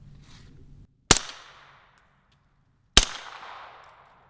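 Two sharp suppressed gunshots from supersonic rounds crack about two seconds apart, each with a ringing tail. A brief low rumble comes just before the first shot.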